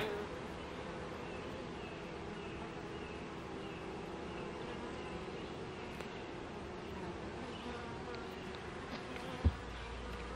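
Honey bees buzz steadily at a hive holding a new queen, a dense, even drone that stays faint and continuous throughout, with one brief tap near the end.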